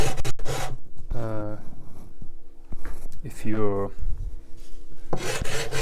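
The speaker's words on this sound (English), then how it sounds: "I would just skip straight to this next step, which is just sanding it." Guitar binding is sanded with worn 80 grit sandpaper to radius its edges before finishing: raspy rubbing strokes come in bursts at the start, middle and end, with someone speaking between them.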